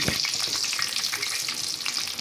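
Battered eggplant fritters (beguni) deep frying in hot oil, a steady, dense sizzle that holds at an even level throughout, with no voices over it.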